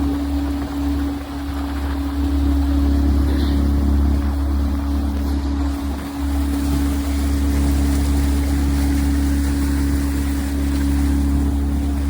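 Motorboat ride on open water, with a steady low engine drone and the wash of water and wind running continuously for about twelve seconds at moderate volume, no talking.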